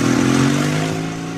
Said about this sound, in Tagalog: Oh, isa ba itong nilabay nga motor, ha?